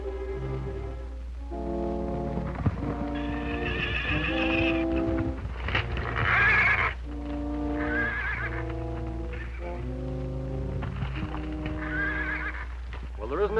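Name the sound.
Pinto stallion horse neighing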